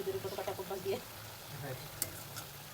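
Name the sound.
eggplant fritters (beguni) in homemade gram flour batter frying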